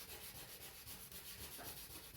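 Soft, steady scraping of sandpaper rubbing against wood, quiet and close, continuing without pause.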